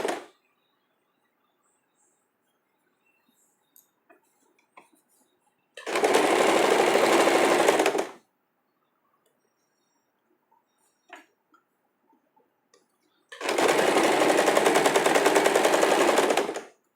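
A sewing machine double stitching a cami top runs in two loud, steady whirring bursts of about two seconds each, close by, with near silence and small handling clicks between them.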